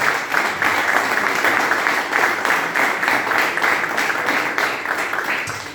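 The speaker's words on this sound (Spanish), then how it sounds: "Dele fuerte el aplauso a Dios esta mañana, mi hermano." A church congregation claps loudly during a Sunday morning service, with sustained, even applause that fills the room and holds steady for several seconds before tapering off.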